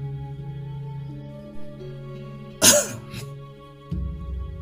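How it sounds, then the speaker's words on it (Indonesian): A single rough cough from a male character in a dramatized story narration about a royal court, bursting loudly over a low, steady droning background and followed by a short throat rasp. "Prabu Hayam Wuruk kini batuk-batuk"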